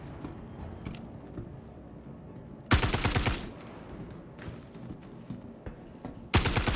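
Bursts of automatic fire from a standard P4 assault rifle in the Star Citizen video game, two loud rattling volleys, one around the middle and another starting at the end, over quieter game ambience.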